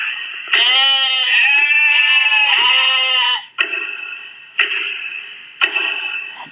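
A sheep sound effect bleats loudly in one long, wavering call, followed by a clock-tick effect that sounds in three evenly spaced clicks with a bright ringing tone.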